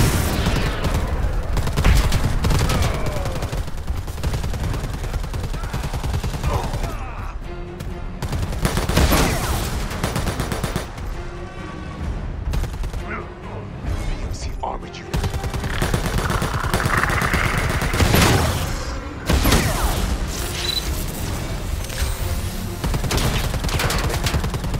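Enemy gunfire in the Predator video game, dense bursts of shots and automatic fire with booms running almost continuously and loud throughout, broken by a few brief lulls.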